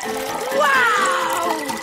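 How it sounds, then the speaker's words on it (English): An egg cocktail pours into a glass in one steady liquid stream lasting under two seconds, close and fairly loud, with a rising filling tone. "I'll pour the cocktail into a beautiful glass."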